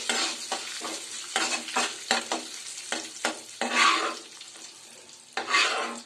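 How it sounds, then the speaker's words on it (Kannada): Food frying in a pan until golden while being stirred, close bursts of sizzling and spatula scrapes that come and go in an irregular rhythm, with no talking. "ಇದನ್ನು ಆ್ಯಕ್ಚುಲಿ ಸ್ವಲ್ಪ ಫ್ರೈ ಮಾಡಿ ನಾವೇನು ಮಾಡಬೇಕು ಒಂದು ಬೌಲಲ್ಲಿ ಎತ್ತಿಟ್ಕೋಬೇಕು ಜಸ್ಟ್ ಒಂದು ಗೋಲ್ಡನ್ ಕಲರ್ ಬಂದರೆ ಸಾಕು"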